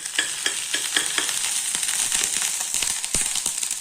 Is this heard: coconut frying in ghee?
yes